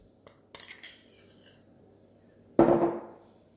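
A utensil clinks against a dish a few times, then gives a louder scraping stir through gratin ingredients of potatoes, minced meat and crème fraîche, close and isolated with no talk.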